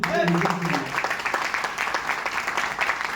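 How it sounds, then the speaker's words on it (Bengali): An audience at a talk on success claps in a burst of applause, dense and fairly steady, with a voice speaking over it at the start. "একটা হাততালি দিন"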